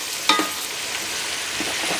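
Tomatoes frying in ghee for biryani, a constant close sizzle with a sharp spatter or stir near the start and softer stirring taps later.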